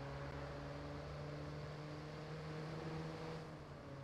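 A family sedan in the Watch Dogs video game drives along with a steady, continuous engine hum and road noise at an even level for a few seconds, tapering only slightly at the end.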